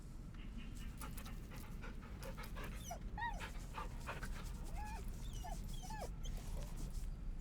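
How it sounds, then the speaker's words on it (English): Scratch, a dog companion in the video game Baldur's Gate III, pants and whimpers with a few short yips and whines, close and clear over a steady low game ambience, with no talking. "Good dog, Scratch."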